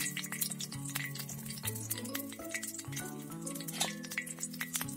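Garlic frying in hot oil in a pan, a steady continuous sizzle with occasional stirring clinks and scrapes, fairly close, no talking.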